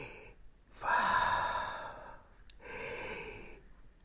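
A voice imitates breathing with a long, airy inhale followed by a softer exhale, close and quiet, with no other sound around it.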